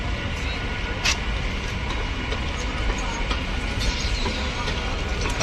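A crowded local train rolls through Dum Dum junction, a steady broadband rumble of wheels and carriages with faint clicks, continuous and fairly close throughout.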